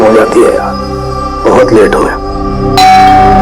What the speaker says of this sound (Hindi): घंटी की आवाज तो सुनाई दी थी।